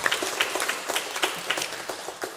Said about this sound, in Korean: 우리 찬양대 우리 격려의 박수 한번 하겠습니다.